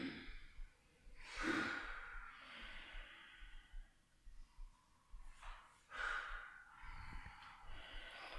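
Deep ujjayi yoga breathing during a Hatha yoga class, slow audible breaths with a throaty hiss, rising and falling in long cycles and quiet overall.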